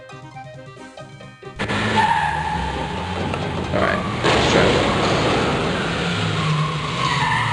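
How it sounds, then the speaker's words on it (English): Tires screech and engines roar in a long, continuous burst of skidding and crash noise from the game Indiana Jones and the Fate of Atlantis, loud and sustained after a short spoken line. "it's a lot of crash sounds for no actual collision"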